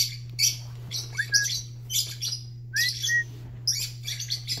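Pet lovebirds chirp in repeated short bursts of bright, sharp tweets and squeaky calls, close and fairly loud, over a steady low hum, with no talking.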